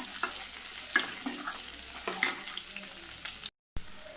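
Curry leaves, garlic and small onions sizzle steadily in a hot pan while a utensil scrapes and stirs with occasional clacks, close and moderately loud.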